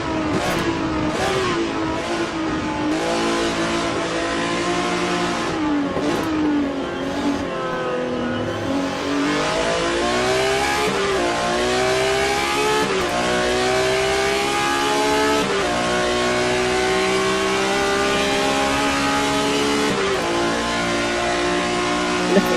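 BMW M1 Group 5 race car in a sim racing game, heard onboard at Road Atlanta: a loud, continuous engine note rising and falling through gear changes and revs, with brief tire squeal and no talk.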